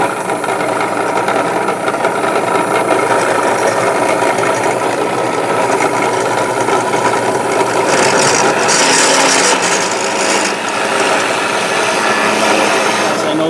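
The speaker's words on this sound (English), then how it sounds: "I do occasionally actually use my drill press for a drill press, not just a buffer and a wire wheel." A drill press running far too fast for wood bores into a wooden workpiece, giving a loud, continuous high grinding and rasping whine with no pauses, close up.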